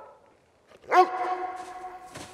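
Cartoon dog giving one sharp bark that trails into a sustained whine-like tone, close and clear, followed by a faint short sound.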